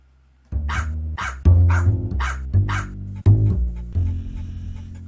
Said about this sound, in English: The barking, bro.